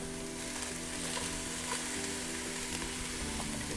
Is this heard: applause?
no